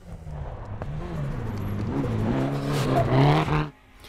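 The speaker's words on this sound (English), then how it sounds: "The car was all Ford, well, nearly, but the scream was pure Nissan." A Ford Escort rally car fitted with a Nissan engine screams past at racing speed, its engine note rising through the gears and swelling louder before cutting off sharply, with no voices.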